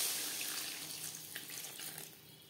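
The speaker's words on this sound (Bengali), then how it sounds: "দিয়ে দেব জল" Water pours steadily into a pan of fish and brinjal curry, a continuous splashing stream that runs throughout at moderate loudness with no voices.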